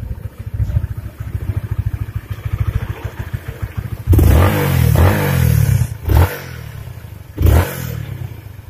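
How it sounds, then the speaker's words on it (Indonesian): A five-year-old 2015 first-generation Honda Sonic 150R motorcycle idles with a fast, steady putter, then is revved hard three times. A long, loud rev comes first, followed by two shorter, sharp bursts close by. "Ini kita lihat suara mesinnya"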